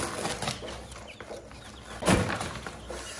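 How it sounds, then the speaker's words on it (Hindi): A hen and her chicks cluck close by, with soft, scattered clucks and peeps running throughout and one louder burst near the end, over a steady background hiss. "थोड़ी देर के बाद हम अपनी मुर्गी के पास चूजे लेकर जाएंगे"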